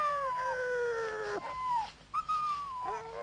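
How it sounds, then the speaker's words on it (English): Several dogs howl and whimper in long, wavering rising and falling tones, fairly close and loud, with brief breaks between the cries and no talk over them. "What's the matter with the dogs?"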